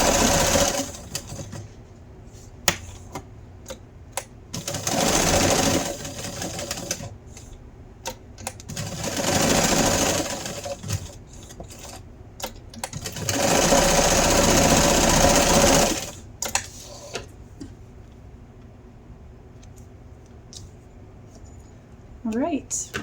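A home sewing machine top-stitches around the edge of an embroidered heart gift tag in rapid mechanical bursts, three long runs separated by pauses, fairly close, with a person speaking between the runs.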